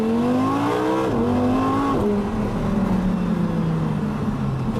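A 2015 Audi R8 V10 Spyder pulls hard at full throttle, its engine note climbing through rising revs with a quick shift and then pulling on strongly, loud and close with no talking.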